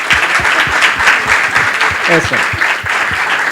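Audience applause for members of a conference panel at a plenary session, a sustained dense patter of clapping filling the room, with a brief spoken interjection over it.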